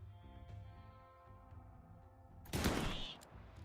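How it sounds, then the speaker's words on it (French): Gunfire in the RimWorld video game: a soft patter of small shots over a quiet game music bed, then a brief loud burst of firing near the end. "C'est quoi ces tirs?"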